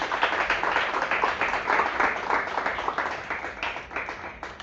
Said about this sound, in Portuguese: Aplaudo o Senhor Jesus